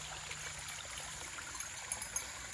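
A small spring-fed stream flowing outdoors toward a larger body of water, a steady close trickle and babble of running water with a few brighter splashes, no voices.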